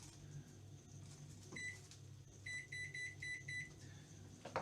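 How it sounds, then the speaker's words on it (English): Series of short electronic beeps from a microwave as its timer is set while making Scottish tablet, a few single chirps followed by a quick run of six evenly spaced tones over low kitchen hum. "Just setting a timer on my microwave for the beating stage."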